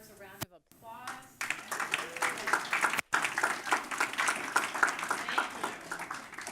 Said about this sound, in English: she always deserves a round of applause